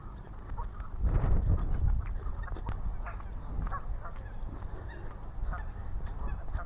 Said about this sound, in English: There was certainly a huge gaggle of geese.